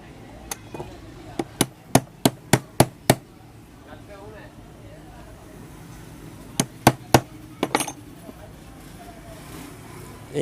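A screwdriver strikes the coil of a gas compressor to loosen it, giving a quick run of about seven sharp metallic knocks, then a pause and a second cluster of four or five close, loud taps.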